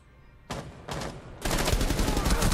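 Gunfire in a Rainbow Six Siege match: a couple of single shots ring out before a sustained burst of rapid automatic fire, loud and close, building to a steady rattle.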